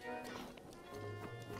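Horse galloping in the video game Zelda: Breath of the Wild, rhythmic clip-clop hoofbeats at a fairly quiet level, with game sound layered over them.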